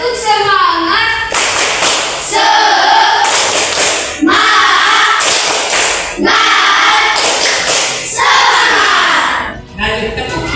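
A school class does a rhythmic 'tepuk semangat' clapping chant, bursts of sharp hand claps alternating with shouted group chanting in a steady, repeating pattern, loud and close in a classroom.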